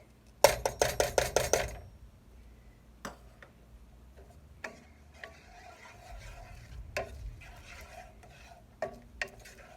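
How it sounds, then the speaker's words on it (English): Chopped onion dropped into melted butter in a pan for a roasted turkey stuffing with barley and apple: a loud burst of rapid clattering sizzle at the start, then quieter scattered clinks and stirring knocks with a faint background hiss. "so now we're going to add our cup of onions"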